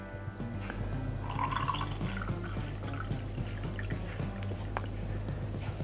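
About 200 ml of water poured into a large glass, heard as a close, steady splashing trickle with small drips over a constant low background hum.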